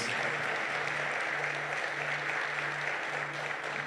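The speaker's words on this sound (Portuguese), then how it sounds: "Você pode aplaudir o Senhor?" Sustained applause from a church congregation during a worship service, a dense steady clatter of clapping filling the room for several seconds with a low hum underneath.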